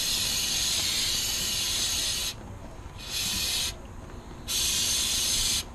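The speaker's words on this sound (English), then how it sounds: "I'm gonna spray this with some cleaner." Cleaner sprayed from an aerosol can during an oil change on a 2016+ Honda HR-V, three bursts of bright hissing spray with short pauses between, close and loud.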